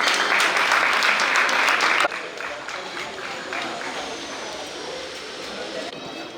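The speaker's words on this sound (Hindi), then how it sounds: "खाली बैठे जरा ताली बजा दो" An audience at an ashram committee event claps in a dense burst for about two seconds, then the clapping thins and continues more softly under background voices.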